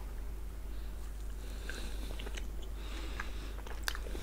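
Hard, rigid sugar-paste candy bitten and chewed up close, scattered faint crunches and clicks over a steady background hiss, quiet and intimate.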